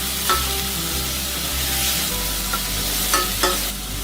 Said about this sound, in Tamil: ஆனியன் நல்லா வதக்கிக்கலாம்.